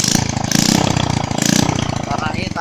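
A single-cylinder motorcycle engine with no exhaust or muffler, run in the middle of a garden, revs loud and close in rough pulsing bursts, rising and falling twice over a few seconds.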